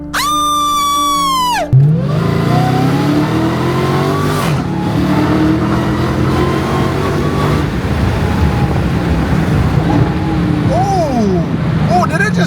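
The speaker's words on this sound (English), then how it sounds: "did it just downshift on its own?" A Dodge Challenger Hellcat Redeye accelerating hard from inside the cabin, a loud, steady engine roar with rising and falling pitch as gears shift, preceded by a brief tonal chime, with people talking over it.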